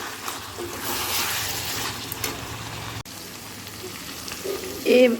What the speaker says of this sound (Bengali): মেটে আলুগুলো দিয়ে দেবো দিয়ে খুব ভালোভাবে আমি কষাতে থাকবে